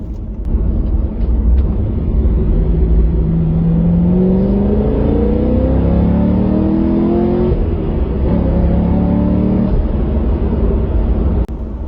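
A Corvette C6 Z06 engine roars at full throttle, its pitch climbing steadily through the revs, cutting off briefly, then pulling hard again, loud and close.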